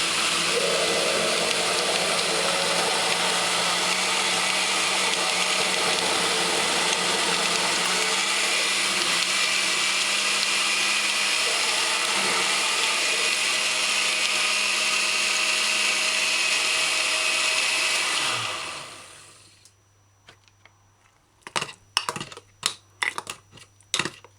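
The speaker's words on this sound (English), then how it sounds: "Stuff like this will strain your blender's motor." A blender whirs loudly and steadily for most of the clip, straining on Irish potatoes and stinking toe (locust) fruit, then shuts off abruptly, followed by a few sharp clicks and knocks.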